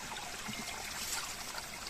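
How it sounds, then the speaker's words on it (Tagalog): Cold mountain water trickles through a hung bamboo channel in a steady, close, gentle splashing babble that holds evenly throughout with no voices. "dito po natin sasabit yung kawayan para daluyan po ng tubig"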